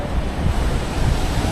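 High-tide ocean waves at night at Mandarmani beach seen from a resort poolside, a loud continuous rumbling wash of surf with wind noise and no voices.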